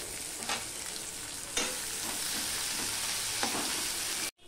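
Onions frying in a pan for a tangra fish curry, salted, a steady close sizzle with several scraping spatula stirs, cut off abruptly at the end.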